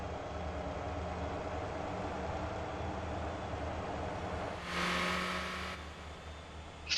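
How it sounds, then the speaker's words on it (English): In the Motor Town driving game, a truck's inline-four engine revs while rolling downhill, a sustained mechanical drone with a louder passing surge near the end of the seven seconds. "Even though he's driving downhill, he's still revving that i4 up."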